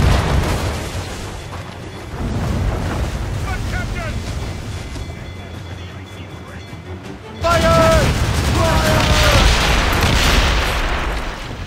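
Ship cannons firing during a naval battle in Assassin's Creed Rogue, with dense, continuous booming and rumbling that grows louder partway through, with voices shouting over the gunfire.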